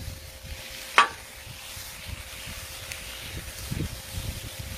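Steak pieces sizzling in a hot pan, a soft continuous hiss with one sharp clatter near the start and low rustling after it, heard close with no talk.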